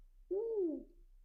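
One low, smooth owl hoot, soft and somewhat distant, rising slightly and then falling away over a quiet background, with no other sounds around it.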